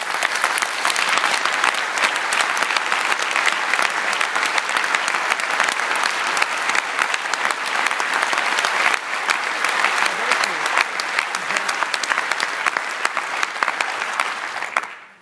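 Sustained, dense applause from a large crowd at a trade union conference, loud and steady throughout before cutting off at the end.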